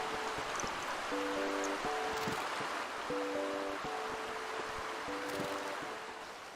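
A flowing stream where a dipper feeds rushes steadily and fairly loudly close by, a constant broad wash of water with a simple melodic music line playing over it.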